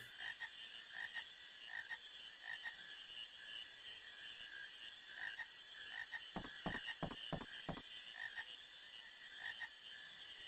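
Frogs croaking in a Final Fantasy IX game scene, a steady chorus of high trilling calls over a quiet background, with a quick burst of low rapid croaks in the middle.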